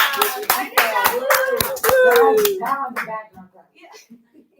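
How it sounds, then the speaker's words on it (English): A short burst of hand clapping from a few people, rapid and close, mixed with excited voices and cheering before fading out. "give yourself a round of applause"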